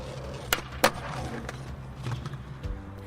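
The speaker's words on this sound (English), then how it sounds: "that is the sound of me landing a sweet skateboard trick" Skateboard wheels roll over pavement, with a couple of sharp clacks as the board hits the ground, followed by continued rolling.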